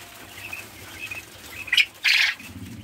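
Quail chicks peeping in a brooder, a few thin soft calls early on and then two louder, sharper squawking bursts close by near the end, over faint background noise.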